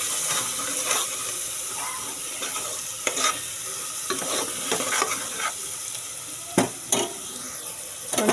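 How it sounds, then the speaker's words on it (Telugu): Mutton curry masala with chili powder being stirred in a pan, a continuous sizzle overlaid with repeated scraping strokes of a ladle, close and steady, with no talking. "కారం వేసుకున్న తర్వాత బాగా కలుపుకోవాలి"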